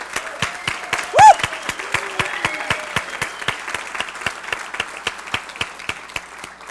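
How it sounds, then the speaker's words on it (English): An audience applauds their IT director during a tribal State of the Band address, producing a steady run of evenly spaced, fairly crisp claps that continue throughout, with a brief tonal cry near the start. "give a round of applause to our IT director, Randy Long, who put this project together"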